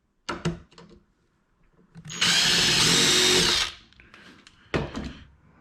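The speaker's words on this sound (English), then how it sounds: "get a couple of holes drilled, get our pilot holes in here" A power drill bores pilot holes in a cabinet drawer, one loud, close whirring burst lasting about a second and a half, framed by brief handling knocks and clatter.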